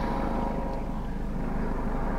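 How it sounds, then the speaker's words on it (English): Helicopters flying over a forest fire, heard as a steady, continuous low rotor and engine drone with no clear beat, moderately loud and unbroken throughout. "helicopters for the forest fire still going."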